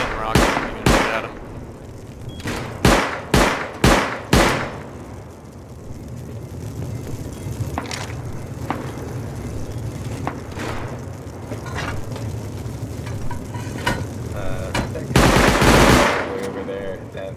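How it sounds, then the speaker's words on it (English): Gunfire and rocket shots during a raid in the online game Rust: bursts of loud, rapid shots in a cluster, then sparser single cracks and a final heavy blast, with players talking throughout. "I'm gonna shoot at him."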